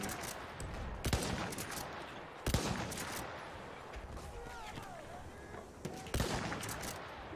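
Gunfire rattles in a Battlefield 1 match: scattered shots and short bursts, a few of them louder, over a steady, busy battlefield din, fairly quiet overall.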